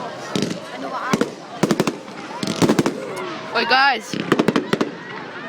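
Fireworks go off in the UK, a rapid series of sharp bangs and crackling bursts in clusters, loud and fairly close, with people talking and calling out between them.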